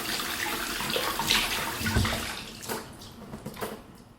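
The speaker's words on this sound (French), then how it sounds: "je suis en train de nettoyer mes pots" Glass jars washed under a running tap, a steady rush of water with splashes and clinks close by.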